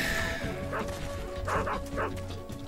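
Dogs in the video game Metal Gear Solid 3 bark in several short yelps and whimper against a busy game background. The bursts are close and fairly loud.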